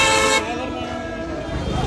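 A Tata vehicle honks with a loud, steady horn blast lasting about half a second, followed by traffic noise and crowd chatter amid a roadside procession on the pilgrimage route near Gopalpura.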